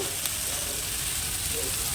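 A steady, dense sizzle of taro stolons frying on a lowered gas flame fills the whole moment, close and constant, with a faint tap near the start.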